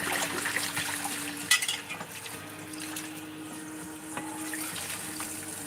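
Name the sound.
water running from tap into pot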